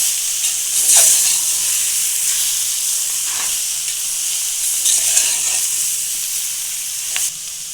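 Steady sizzle of tempering spices crackling in hot oil over a low flame, a continuous bright hiss with a few sharper pops, close and fairly loud, no voices.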